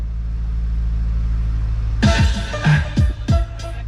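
A bus engine idles with a steady low rumble, then from about two seconds on it is revved in several sharp bursts that rise and fall, close and loud, with no talk.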